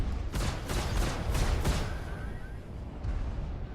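Ship cannons firing in Star Citizen, an M3A cannon and repeater setup on an Aurora LN spacecraft, with five loud rapid blasts in quick succession followed by a lone later shot.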